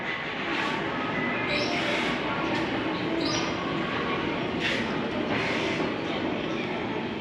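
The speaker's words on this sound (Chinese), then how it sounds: "这是台糖369蒸汽火车" Taiwan Sugar steam locomotive No. 369 rumbles steadily close by at the Yuemei sugar factory in Houli, Taichung, with a continuous mechanical roar and faint rhythmic clatter, unbroken throughout.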